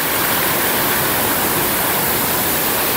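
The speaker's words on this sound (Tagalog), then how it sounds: "Ayan na yung pulso. Bisibis Falls." Bisibis Falls in Mauban, Quezon, a waterfall near the sea, pours in a steady, loud, dense roar of rushing water that fills the whole stretch without pause.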